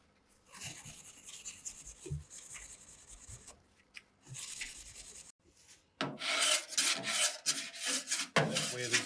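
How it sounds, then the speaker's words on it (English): Steel wool scrubbing over stripped paint and spray putty on a Jaguar E-Type body, a dry rasping rub in uneven strokes that starts softer with brief pauses and grows louder and denser toward the end. "steel wool scrubbing through the spray putty"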